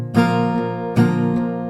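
A close acoustic guitar strums a couple of full chords, with bright attacks and lighter strokes between them as the strings ring out.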